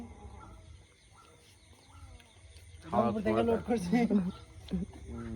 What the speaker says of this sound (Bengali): এই যে মুরগি নিয়ে আসছি, রংপুর থেকে লোড করছি